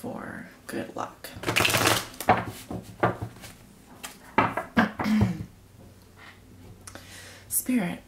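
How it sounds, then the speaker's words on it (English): A deck of tarot cards is shuffled by hand in a few quick bursts of riffling and tapping, close and crisp, separated by brief pauses with some soft handling noise between. "Just give the cards a couple more shuffles here."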